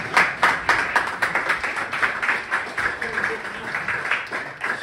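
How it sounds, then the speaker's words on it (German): Audience applause at the Nockherberg 2023 Singspiel in Munich, welcoming a performer playing Chancellor Olaf Scholz: dense, steady clapping from a large crowd lasting throughout, with voices mixed in. "Ich um Applaus für den Bundeskanzler Olaf Scholz."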